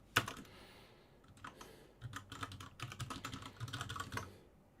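Someone types code on a computer keyboard in quick irregular bursts of clicking keystrokes, heard close and fairly quiet with no talking.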